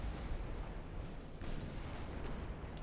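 Warship artillery salvo in the naval battle game Ultimate Admiral Dreadnoughts: a dense, continuous rumble of heavy gunfire with a sharper crack about halfway through, steady and loud throughout with no talk.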